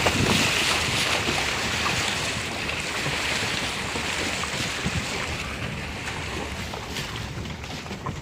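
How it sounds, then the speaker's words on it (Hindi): A vehicle drives through a rocky stream, with continuous rushing, splashing water and heavy wind buffeting, loud and unbroken throughout. "पानी की आवाज़ भी बहुत प्यारी है"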